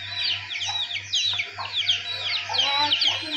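Aseel chickens and chicks roam outside, the chicks giving repeated high, rapid peeping calls while hens cluck softly beneath, with a low steady hum in the background.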